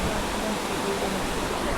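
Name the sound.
flowing water below the temple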